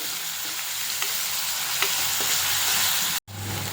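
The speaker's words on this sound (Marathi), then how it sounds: "त्या कांद्याला छान असा गुलाबी होईपर्यंत परतून घ्यायचा" Finely chopped onion sautés in hot oil until pink, a loud, steady, close sizzle with faint occasional stirring clicks and a brief break near the end.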